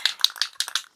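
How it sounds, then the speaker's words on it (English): A can of spray paint, readied for coating steel targets, gets a quick shake: about six sharp rattling bursts in one second, close and crisp, with no talking over them. "Shake your paint can."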